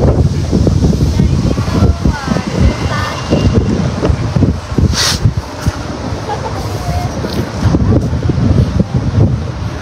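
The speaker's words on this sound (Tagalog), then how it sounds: "Medyo mahangin siya today" Gusty wind buffets the microphone in low rumbling bursts throughout, outdoors in the business center area of The Hague at about 13 degrees, with faint ambience and occasional voices in the background.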